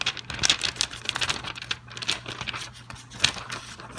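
Very thin paper like receipt paper being crinkled close by, giving a rapid run of sharp crackles and rustles in irregular bursts.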